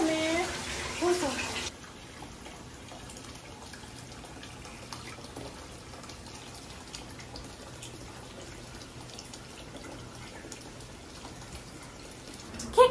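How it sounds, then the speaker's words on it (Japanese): Water in a guest room's open-air hot spring bath, a steady soft trickle and wash running continuously, louder in the first seconds and then settling into a low, even flow. "こちらがね、客室の露天風呂でございます"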